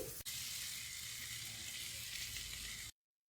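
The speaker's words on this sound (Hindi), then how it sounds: "स्टफिंग को हम 1 मिनट पका लेंगे।" Potato and boiled pea samosa stuffing sizzles steadily in a pan, a continuous close frying hiss with faint stirring, then cuts off abruptly near the end.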